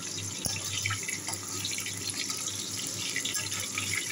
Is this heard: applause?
no